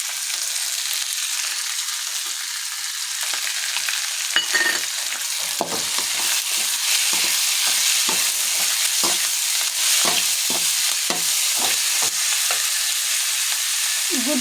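Egg pasta fries in a pan with a bright, continuous sizzle and a series of stirring scrapes and clicks, close and loud with no voices.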